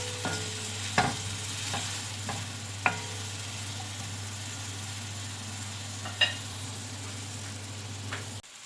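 Spiced green chillies cook on low heat in a pan with a low, even sizzle under a steady hum, broken by a few sharp clicks and stirring knocks.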